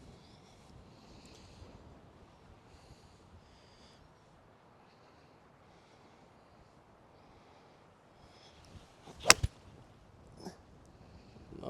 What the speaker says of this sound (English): Wind is very, very strong off the right.